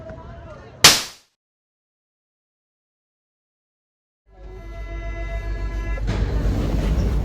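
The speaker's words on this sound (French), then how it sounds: "On est dans le métro en direction des Champs-Élysées." Paris metro train heading toward the Champs-Élysées: a sharp thud, a short silent gap, then a rising electric motor whine and a growing rumble as the train picks up speed.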